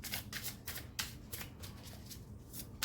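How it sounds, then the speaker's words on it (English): Tarot cards are shuffled by hand in a rapid series of soft riffling bursts and brushing slides, close and quiet, with no talking. "Sometimes I have to shuffle for a while, you guys."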